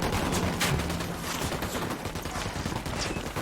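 Sustained gunfire in Ghost Recon Wildlands, a dense rapid fusillade of close, loud shots running throughout with little pause.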